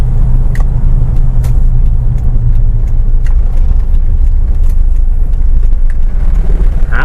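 A 2003 Toyota Hilux Tiger 4x4 pickup with a 2500cc engine drives in four-wheel drive, its steady low engine and road rumble loud and continuous, with faint clicks and rattles on top.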